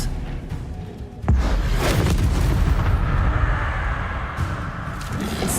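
Expelliarmus spell effect from Hogwarts Legacy, a sudden heavy whooshing boom that bursts in after a quieter start and then sustains as a loud rumbling wash for several seconds.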